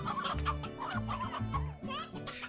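Chickens cluck repeatedly in the Slime Rancher video game, a busy run of fowl calls layered over steady low in-game background sound and music.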